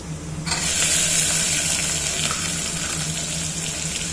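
Onions and dried kasuri methi hit hot oil with a sudden loud sizzle that jumps in after a quiet start and keeps crackling steadily, close and continuous.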